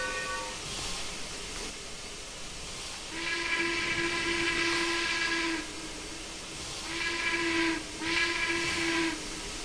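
Single-chime steam whistle of a Union Pacific 0-6-0 locomotive in Trainz 2019, sounding in two long blasts over a steady background hiss, the second split into two close pulls.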